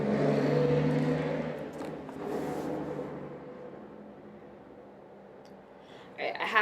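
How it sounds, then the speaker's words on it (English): A passing truck with engine braking, a close loud drone that fades away over several seconds, followed by a brief sharper burst at the end. "Let's just let this down-breaking truck go by."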